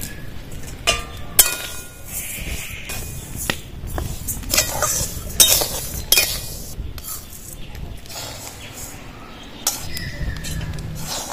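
Dry rice is dry-roasted and stirred in a kadai over a village wood-fired stove, giving scattered close rattles, scrapes and clinks in irregular bursts.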